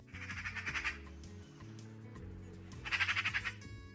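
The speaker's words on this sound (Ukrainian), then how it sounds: "Давайте послухаємо, як саме скрекоче сорока." Harsh, rapid chattering squawks of a magpie, two loud bursts at the start and near the end, played alone over a steady background tone.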